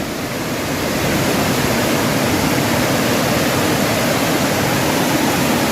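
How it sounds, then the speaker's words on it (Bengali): A waterfall at Murguma Dam roars as a steady, dense rush of falling water, loud and continuous throughout with no voices over it. "এটা হচ্ছে মুরগুমা ড্যাম এটা হচ্ছে ঝর্ণা"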